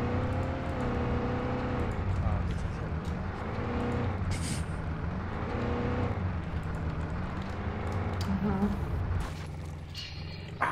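A vehicle engine drones and shifts pitch as it drives in the military video game Arma 3, with mechanical rattles and clunks over the steady motor hum.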